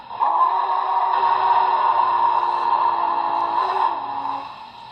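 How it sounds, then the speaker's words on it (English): A sustained, steady electronic train whistle tone from an HO-scale BLI Big Boy model train sound decoder, with a mix of harmonics, holding for about four seconds before fading, heard alone. "Two is obviously your whistle."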